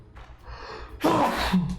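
A sudden sneeze bursts out loud and close after a quieter stretch of breathy background noise, with a short vocal tail at the end.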